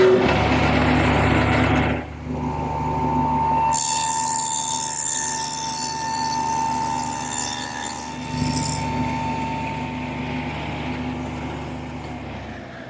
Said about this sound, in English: So now I'll just plow out that dado.